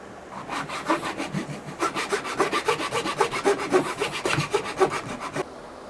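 A hand saw cuts fret slots into a wooden electric guitar fretboard held in a ratchet clamp, giving a steady, close back-and-forth rasping stroke rhythm for several seconds with a brief pause partway through.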